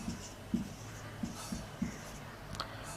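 Chalk or marker strokes on a board during a chemistry lecture on isotopes: five or six short, crisp scratches in an uneven rhythm, close and clear against a quiet room, with no talking.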